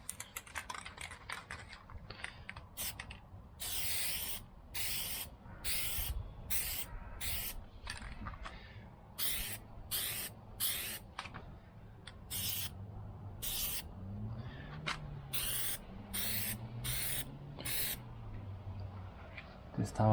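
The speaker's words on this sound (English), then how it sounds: "it needs a bit of spray from above" Short hissing bursts from a spray can of Plasti Dip coat the chrome badge letters of a Tesla Model 3, repeated in quick rhythmic puffs with a voice speaking between and over them.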